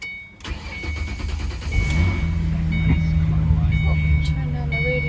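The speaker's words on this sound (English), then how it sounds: "Wanted to send you a video here of the vehicle starting up." A 2006 Ford Mustang engine cranks and catches after a short pause, then settles into a loud, steady idle rumble heard from close by, with an electronic tone running through it.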